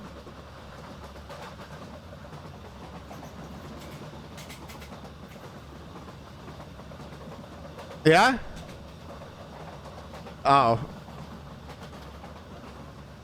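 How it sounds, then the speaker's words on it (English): Train arriving at a station in a video game: a steady low rumble runs under the scene while two short, loud bursts of clatter and screeching stand out near the end, with a person talking briefly over it. "Me train's about to arrive"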